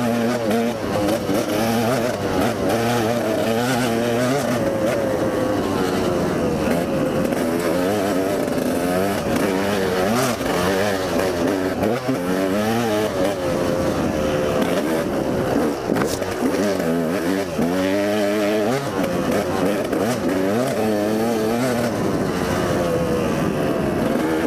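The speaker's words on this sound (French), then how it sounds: "La moto est chaude, hein, je ne pars jamais sans la faire chauffer." Enduro motorcycle, warmed up, riding along a dirt trail, the engine running loudly and continuously with repeated rises and falls in revs, close to the rider, who speaks over it at times.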